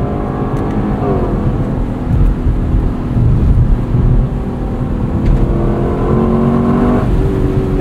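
A 2024 Lexus LC 500 convertible's V8 revs and pulls hard, its engine note rising through gears with a brief dip at a shift, loud and close, with no talking.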